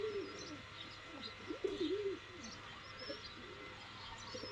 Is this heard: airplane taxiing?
no